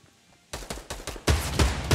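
Gunfire in the Fortnite battle royale game, a quiet lead-in followed by a burst of several sharp shots, then louder rapid shots in a fast uneven rhythm, close and prominent with no talking.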